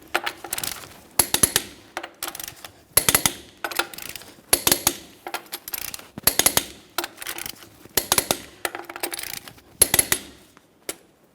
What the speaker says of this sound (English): let's torque each one of our 21mm lug nuts to 150 foot-pounds in a crisscross manner